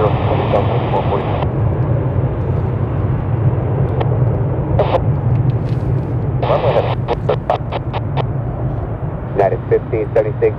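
Aircraft rumble steadily at Chicago O'Hare Airport at night, a low continuous drone beneath crackly air traffic control radio chatter with bursts of beeping tones.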